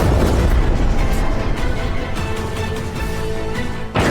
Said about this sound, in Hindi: सरकारी मुख्यालय पर हमले के बाद जोरदार धमाका हुआ जिससे पूरा इलाका दहल गया